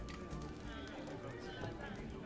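Horse hooves clip-clopping in The Witcher 3: Hearts of Stone, a quick steady clatter of steps heard under people talking.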